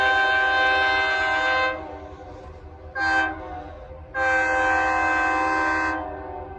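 A southbound ELS 502/402 freight train in Beecher sounds its horn in long, loud sustained blasts, with a short blast in between and a final long blast, over a low rumble of rolling cars.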